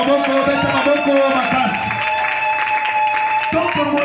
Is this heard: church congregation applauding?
yes